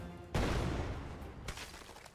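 A single loud cannon blast in the video game South Park: Snow Day, with a long rumbling tail, then a second, softer report fading out with no talking.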